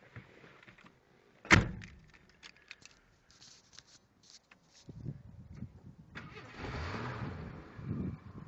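A sharp thump, then quiet clicks, followed by a 1982 Jeep Wagoneer engine cranking and catching into a low, steady idle rumble.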